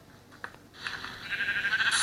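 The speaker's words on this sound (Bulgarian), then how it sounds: "Ще спалвам овци." A sheep bleats in Minecraft Skyblock, a short wavering cry rising out of quiet game ambience and holding briefly near the listener.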